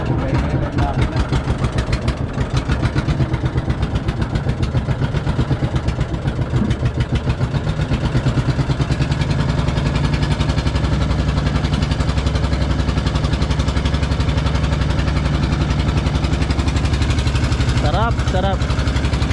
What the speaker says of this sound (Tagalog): Ayun, bubuksan na ni kuya yung makina.